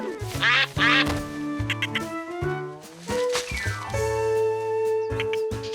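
Cartoon ducks at a duck pen quacking repeatedly in a lively, overlapping chorus of bright, nasal calls, close and loud throughout with no talking.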